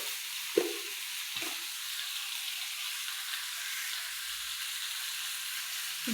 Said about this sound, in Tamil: மிக்ஸ் பண்ணுறதுக்காக கொஞ்சம் உப்பு போட்டோம்.